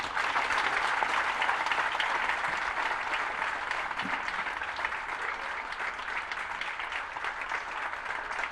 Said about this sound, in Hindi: नड्डा जी के स्वागत में जोरदार तालियां होनी चाहिए